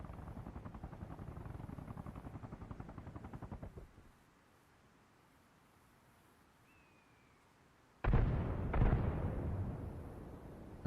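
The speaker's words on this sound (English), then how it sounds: "Okay, so helicopter blew up." A helicopter explodes in the military shooter Arma Reforger: a low rumbling rotor-like drone fades out, a quiet pause follows, then a sudden loud booming blast with rolling roar that lingers to the end.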